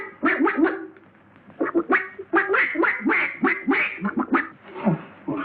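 A man imitates a duck with his voice, letting out a run of nasal, quacking honks in quick bursts, close and fairly loud, with a short pause after the first few before a longer string of quacks.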